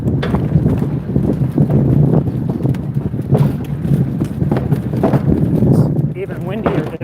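Strong wind roars and buffets the microphone in a steady low rumble while riding an electric unicycle outdoors near Cherry Creek reservoir, continuous and close throughout.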